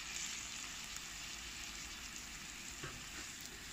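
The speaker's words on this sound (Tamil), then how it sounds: "கேரட் பச்சை பட்டாணி சேர்த்த பிறகு நீங்கள் வந்து அதையும் நல்லா வெங்காயம் கூடவே வதக்கி விட்டுக்கிறலாம்" Onion, green peas and carrot sauté in a pan, giving a dense, even sizzle that holds at a moderate level throughout with no talking.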